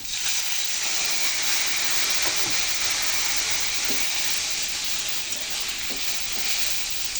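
Spice paste of ground chilli and spice powder sizzling and steaming in a pan after a splash of water, a steady loud hiss throughout with a few faint stirring scrapes, no talk, while cooking a spiced soybean dish.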